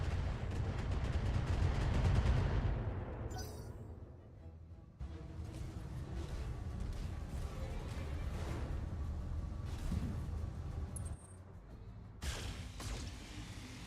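Missile strikes in the mech combat game BattleTech, a heavy rumbling barrage of explosions swelling then fading, followed by scattered sharp impacts and a final burst.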